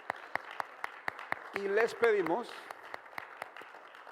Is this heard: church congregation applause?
yes